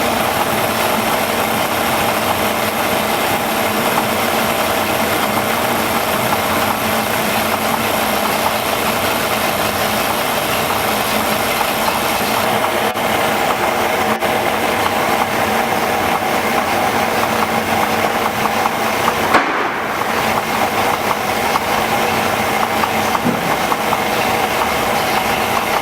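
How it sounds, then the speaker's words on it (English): A car engine idles steadily in timing mode, its RPM dropping slightly, a continuous close engine hum that runs for the whole stretch with a brief dip near the end. "you'll hear a difference in the engine RPM. It drops"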